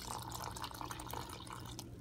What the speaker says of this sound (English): To that, you're gonna add water.